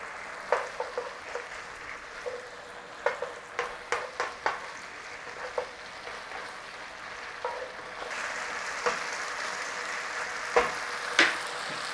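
Beef frying in a stir-fry pan with a little wine added, soft sizzling broken by sharp scrapes and clacks of a utensil, the hiss growing fuller and steadier toward the end.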